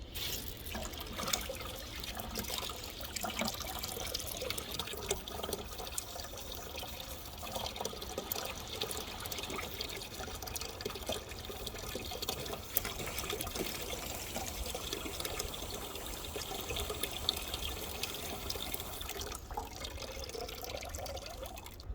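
Water flushes through a truck heater core on a first-generation Cummins, fed by a hose, as a continuous broadband rushing and gurgling that stays steady and close throughout.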